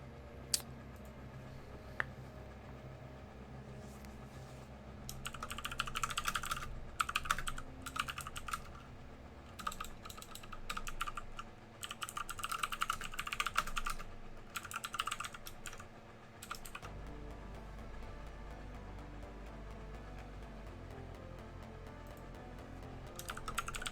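Steady bursts of typing on a computer keyboard, close and clear, with brief pauses between runs of keystrokes and a low background hum throughout.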